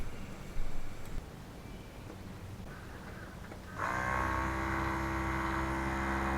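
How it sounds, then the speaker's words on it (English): A tiller motor, just fixed after a fuse fault, kicks on partway through a quiet outdoor stretch and settles into a steady, close, droning hum that runs to the end. "I hear the motor running, so hopefully it was a bad contact on the fuse."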